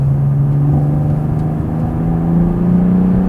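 BMW 8 Series Gran Coupé with an inline six-cylinder engine accelerating on a road, a steady, close engine drone that rises gradually in pitch under cabin road rumble, with no talking.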